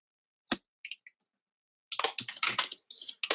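Keyboard keys are struck in a few isolated clicks, then a quicker burst of typing follows after a pause, close and fairly quiet with no one talking.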